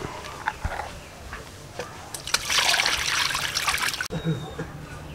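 Water trickles and splashes while yellowfin tuna is washed, starting with scattered drips and handling sounds and rising to a steadier, louder run of flowing water near the middle, close by, with someone talking over parts of it.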